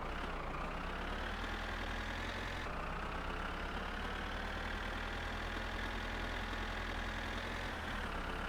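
A car engine runs with no muffler in My Summer Car, a loud, raw, continuous drone with a low throb and a steady pitch that rises slightly, heard alone throughout.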